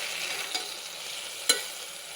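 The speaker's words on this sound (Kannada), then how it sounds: "ಈ ಹಾಗಲಕಾಯಿ ಹುಣಸೆಹಣ್ಣು ರಸದಲ್ಲಿ ಒಂದು 5 ಮಿನಿಟ್ಸ್ ಬೇಯಬೇಕು" Bitter gourd simmers in tamarind juice as a spoon stirs the pot, giving a steady soft sizzle with a couple of brief scraping knocks, close and alone.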